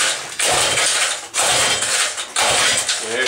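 An outboard boat engine is pull-started on a gas-oil mix with the throttle open. Three loud, rasping cord pulls come close together, each a ratcheting whir, with no voices.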